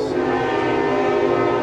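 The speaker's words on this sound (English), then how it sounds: "Thank you, train!" A passing train sounds a loud, sustained horn blast held steadily throughout, close and dominating.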